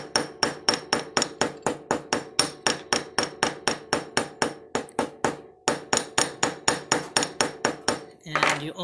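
Steady, rapid metal hammer blows on fine silver chain links, a sharp ringing tap roughly four times a second, close and loud, with a brief pause midway and a scraping shuffle at the end.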